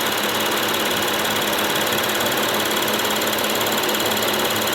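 A Lexus IS car engine idles steadily nearby with a fast, even mechanical ticking running through the constant hum.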